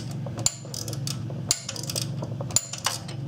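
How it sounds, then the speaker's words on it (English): A ratchet tightening a bolt during a Suzuki Forenza timing belt replacement, with rapid metallic clicking strokes and a few sharper clanks roughly once a second, close up. "just go ahead and tighten the bolt up"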